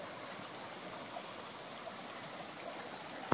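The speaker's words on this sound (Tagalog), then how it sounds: "Tayo sa ilog. Malinaw na malinaw po yung ilog." Clear mountain river flowing steadily, a soft continuous rushing wash of water with faint gurgles, no voices, moderately distant and even throughout.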